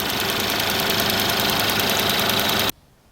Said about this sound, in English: it is a 6-speed automatic with a 4-cylinder 2-liter engine